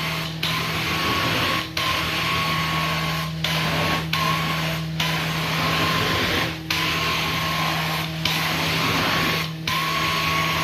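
A powerful carpet cleaning machine drones steadily at close range, with a strong constant hum broken by brief regular dropouts every second or so as the wand is worked across the carpet.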